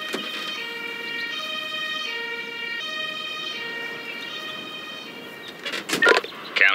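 An ambulance siren from the emergency-services video game Emergency 5 wails in a steady repeating tonal pattern at moderate level, followed by a few brief louder bursts near the end.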